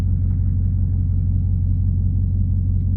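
Low, steady rumble from inside a Dodge Hellcat widebody on the move, with an even engine drone that holds constant with no revving or speech.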